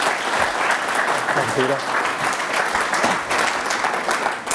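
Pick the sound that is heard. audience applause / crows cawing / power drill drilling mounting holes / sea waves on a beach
audience applause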